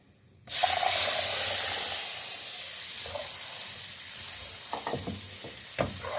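Spices and boiled chickpeas hit a hot pan with a sudden loud hiss that settles into steady sizzling, followed by a few scraping stirs near the end, all close and without speech.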